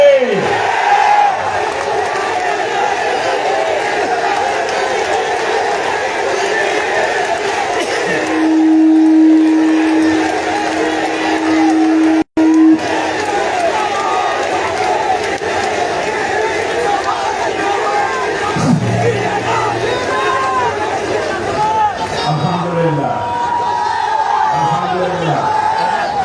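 A large crowd at an Islami Chhatra Shibir rally chants slogans in loud rhythmic unison, the massed voices swelling and repeating close by throughout, with brief breaks and a single voice rising at moments.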